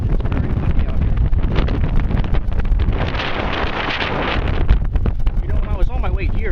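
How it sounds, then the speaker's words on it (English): Strong wind buffets the microphone near the Hudson River by the One World Trade Center construction site, a loud continuous rumbling roar with gusting surges while someone talks. "It's very windy out here."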